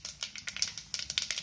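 Mustard seeds crackle and pop in hot oil as a sambar tempering is made, giving a quick run of sharp, close, irregular snaps with no talking.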